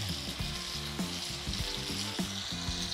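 Lamb browns in a hot pan with a constant crackling sizzle, dotted with sharp pops and spits that land every half second or so, close and fairly loud with no voices.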